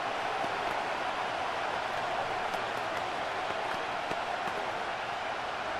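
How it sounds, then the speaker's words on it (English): Simulated stadium crowd applause in a Madden 26 football game, Jaguars against 49ers, as a steady, dense wash of clapping and crowd noise that holds evenly throughout with no voices on top. "How about some applause for the defense there?"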